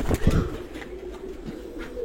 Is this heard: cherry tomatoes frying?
no